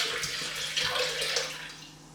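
Starter tea from an earlier batch pours into a jar of green tea kombucha, a continuous splashing trickle heard up close and alone.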